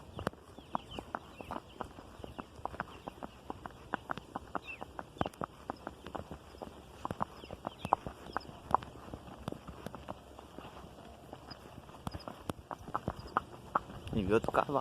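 Hooves of a small horse clip-clopping steadily at a walk while being led to a new pasture, a continuous close rhythm of sharp hoof strikes throughout with faint outdoor background.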